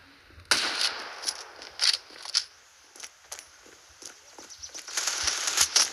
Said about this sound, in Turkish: Uf silah çok güzel. Ama çok sekiyor bu silah da.